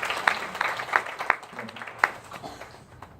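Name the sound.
applause from congregation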